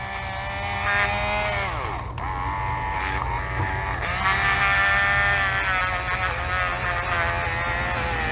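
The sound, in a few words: rotary tool with Scotch-Brite adapter stripping paint off diecast car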